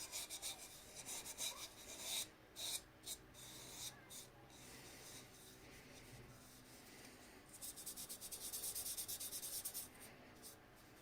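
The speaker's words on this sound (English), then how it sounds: "So, with this Scotch-Brite, just clean up" A Scotch-Brite pad rubs quietly along the edges of a wooden pot, making soft, close scratching strokes in irregular bursts that grow busier toward the end. No talking is heard.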